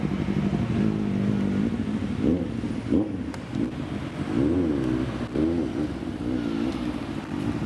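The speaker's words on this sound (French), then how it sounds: "ABT qui passe dans le plus grand des calmes" ABT-tuned car driving past, a steady engine drone with rising and falling tonal sweeps as it goes by at moderate distance, amid outdoor street noise.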